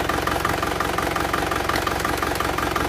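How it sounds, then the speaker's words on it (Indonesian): Isuzu Panther diesel engine idling rough with a misfiring cylinder from a dead fuel injector, a close, steady loud clatter with an uneven rhythmic knock throughout. "Suara mesin ini sudah lebih halus walaupun masih pincang ya, karena sekernya ganti baru."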